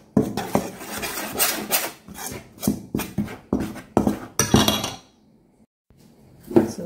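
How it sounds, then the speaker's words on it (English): Dry biscuit ingredients, including baking powder, are stirred together in a bowl: a run of close, irregular scraping and rubbing strokes, then a short pause before another stroke, with no voices. "So we mix all the dried ingredients"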